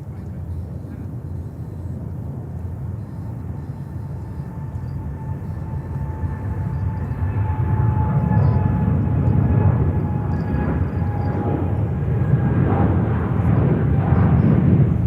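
Kenya Airways heavy jet at JFK Airport, New York, a steady broad engine roar that swells louder toward the end, with a faint tonal whine on top.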